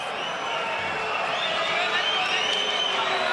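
A boxing arena crowd at a fight between Miguel Cotto and Cesar Bazan rumbles with a steady wash of murmuring and jeering voices, a constant distant roar without clear claps.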